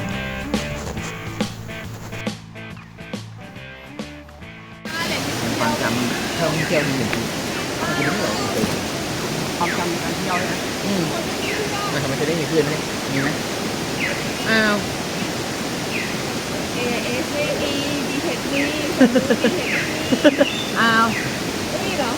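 Khlong Nam Lai waterfall pours in a dense, steady hiss that comes in abruptly after a few seconds and then roars on continuously, with voices now and then underneath.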